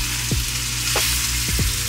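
A steak laid gently into a hot pan for steak and eggs gives a steady, loud close sizzle, with a few short scrapes and taps of a utensil against the pan, and no one speaking.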